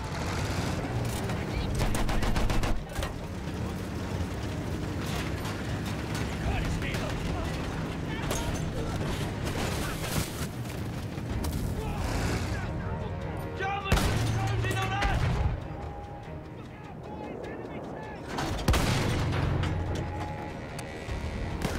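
Dense gunfire from the video game Battlefield 1 fills the clip with steady rapid bursts and blasts, with shouted voices over the battle.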